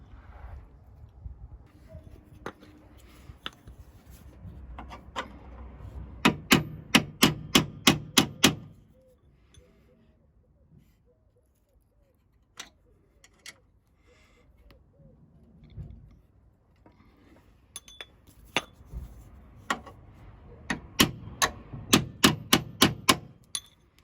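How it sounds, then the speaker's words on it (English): Metal bolts rattle and clink in a tin as someone rummages through it, with quiet shuffling and bursts of quick, sharp metallic taps in clusters separated by near-silence. "So I'll look in my tin and see if I've got any more bolts the same thread as this"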